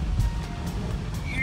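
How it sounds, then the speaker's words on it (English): A car drives through a puddle on a wet street, giving a brief rushing splash of water with wind-like noise, loud and close. "We're gonna hit the puddle."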